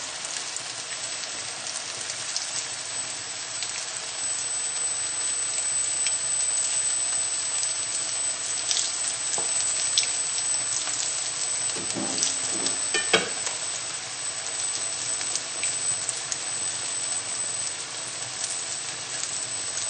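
Spicy salmon fish cakes fry in hot, nearly smoking oil with a steady, dense crackling sizzle, close up, broken by a few louder pops and clinks partway through.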